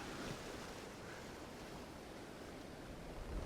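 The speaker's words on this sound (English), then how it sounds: "there's waves coming" Ocean waves wash steadily onto the shore during shore fishing, a constant loud, broadband surf roar with no voices.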